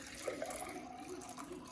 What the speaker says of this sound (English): now that we've measured a cup and a half, we're going to pour it into our last glass